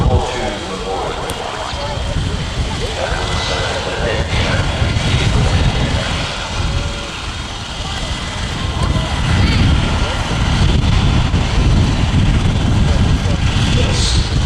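Boeing B-17 Flying Fortress, a four-engine World War II bomber, flies at an air festival; a steady droning engine roar swells and fades as it passes, with crowd and wind noise around it.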